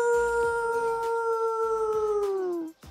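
A man on a beach-villa reality show howls at the moon like a wolf, imitating the animal with one long, loud, sustained tonal howl that slowly falls in pitch before cutting off, over faint background music.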